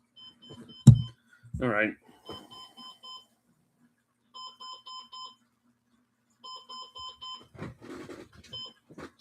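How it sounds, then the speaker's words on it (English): A bedside alarm clock going off in bursts of rapid high electronic beeps, repeating in short groups separated by pauses, moderately quiet in a room while someone speaks briefly at the start and other voice sounds come near the end. "Sorry, my alarm clock was going off."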